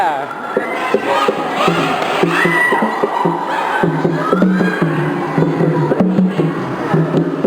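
A large crowd cheers and chants continuously at a university sports day, dense overlapping shouting voices filling the whole stretch at steady volume.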